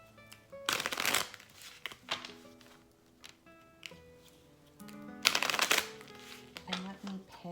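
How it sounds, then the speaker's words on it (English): A deck of oracle cards being shuffled by hand in two quick bursts of riffling and flicking, close and crisp, separated by quieter handling, with a voice speaking between them. "I'll just give this a quick shuffle."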